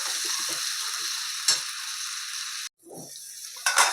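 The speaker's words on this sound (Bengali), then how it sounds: "এটা দিয়ে আমি চিকেনটাকে কষবো" Chicken cooks in a pan with thick-cut onion pieces, giving a close, loud, hissing sizzle. It breaks off abruptly near the middle, then resumes with short splashy bursts.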